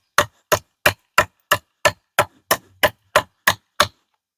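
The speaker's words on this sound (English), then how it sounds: "I've been chopping on this for a couple of minutes here" Twelve sharp, evenly spaced chops of a large Tkell Sapper knife biting into wood, each a crisp, loud, close whack roughly every third of a second, with no talking.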